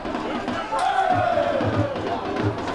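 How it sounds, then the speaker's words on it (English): Crowd noise from the stands at a Chabot vs West Hills college football game in Hayward, a steady roar of many voices swelling at moments, with some shouting and talk mixed in throughout. "And here in Hayward, the crowd is starting to feel it."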